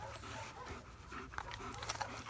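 A dog panting close by in a quiet indoor setting, a steady soft rhythm of quick breaths with a faint whimper or two, no talking.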